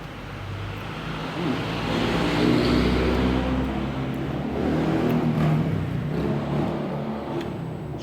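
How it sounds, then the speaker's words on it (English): Steady broadband rumble and tire hiss from a moving car, heard from inside the cabin, swelling slightly at moments and continuing without speech. "Sorry about the road noise"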